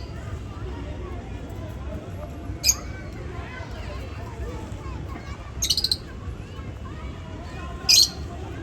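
Budgerigars in a cage chirp in short bright bursts while eating millet, three clusters spread over a steady low room rumble with faint babble.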